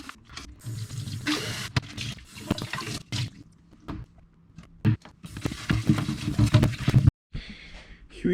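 Plastic osmosis filter tanks being scrubbed with soap and water, with running and splashing water from a tap, bursts of rinsing and sloshing, and a brief pause before the flow resumes.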